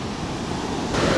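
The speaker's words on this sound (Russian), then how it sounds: "Сейчас большие волны, шторм." Big storm waves breaking on a Turkish sand beach, a loud, broad roar of surf with wind buffeting the microphone, swelling toward the end.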